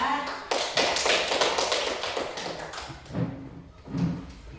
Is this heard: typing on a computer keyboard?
no